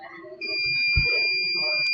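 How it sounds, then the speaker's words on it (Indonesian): A buzzer wired to a flame sensor in a home fire-alarm setup sounds a steady, piercing electronic tone that starts sharply and holds, over a low background murmur. "maka buzzer akan menyala sebagai alarm kebakaran"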